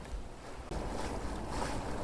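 A sailboat single-handed in winter, making about 6.5 knots through the water in an 11 to 12 knot breeze, gives a steady broadband rush of water and wind, with a brief dip before it fills in louder and stays constant.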